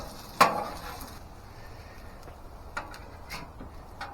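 Eggs for breakfast burritos being stirred on a Blackstone griddle: a sharp scrape and clink of a utensil on the hot surface, then lighter taps and scrapes over a faint sizzle.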